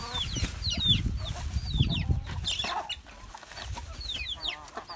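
Young cockerels and chickens by a pile of watermelon rind cluck and peep in quick, overlapping calls, close and fairly loud, with scratching and movement underneath throughout.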